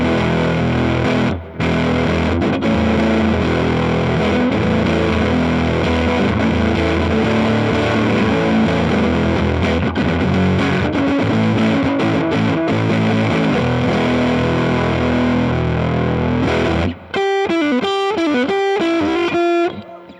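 A heavily fuzzed electric guitar through a Silktone Fuzz pedal plays dense, saturated chords in a thick continuous wash, ending with a few choppy strummed hits.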